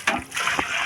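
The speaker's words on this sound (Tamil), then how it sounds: "இப்போ பார்த்திங்கன்னா நம்ம அளவு தண்ணி ஊற்ற போகிறோம்." Water splashes and sloshes into a large pot for a 10 kg batch of chicken dum biryani with thulasi rice, heard as short, soft, close pours with no talk.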